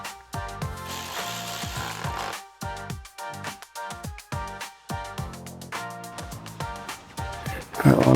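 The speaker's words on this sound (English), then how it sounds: "A Milwaukee electric ratchet does make it go a little bit faster" A Milwaukee electric ratchet drives screws on a Ford Transit, its motor whirring in repeated short bursts with brief pauses between, close and fairly loud, one burst per screw.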